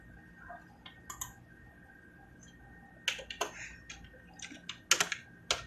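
Someone types in Hindi on a computer keyboard in PageMaker 7.0, with scattered single clicks and short quick bursts of keystrokes, close and fairly quiet against a faint electrical hum.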